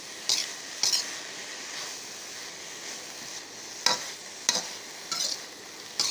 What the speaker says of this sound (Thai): แล้วก็คนไปเรื่อยๆคนจนมันแห้งน้ำมันมันแห้ง